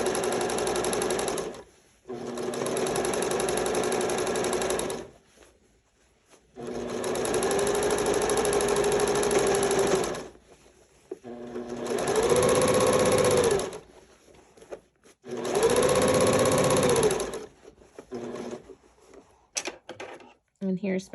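A sewing machine stitches the panels of a six-panel welding cap with a band, running in five separate loud bursts of a few seconds each, separated by pauses, heard close up.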